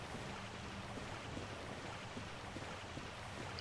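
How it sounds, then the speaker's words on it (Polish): A lava stream flows in the Demon Ruins of the Dark Souls: Prepare to Die Edition video game, heard as a steady, dense low rumble and roar with no distinct events. "a tutaj cichutko, tylko słychać potok lawy"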